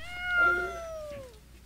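A cat gives a single clear, drawn-out meow at close range, rising and then falling, with no speech over it.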